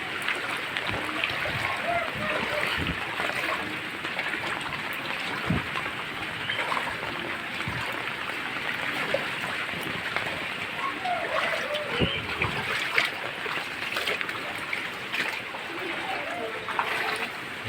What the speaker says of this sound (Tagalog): Dito sa amin sa loob, medyo mahina pa ho yung pasok ng tubig.